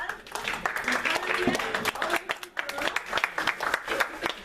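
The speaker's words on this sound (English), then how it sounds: "Let's give her a little round of applause" A small audience gives a brief round of applause for a researcher at a book talk, scattered claps that rise and ebb unevenly, mixed with some voices in the room.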